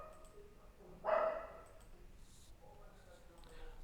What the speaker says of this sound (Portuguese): Bia, Bia, para de latir.